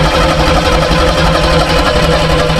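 Engine of the Firepigeon car running after fuel line repair with Seafoam in the fuel system, a loud, steady, rough mechanical drone with a low throbbing rumble and faint knocking.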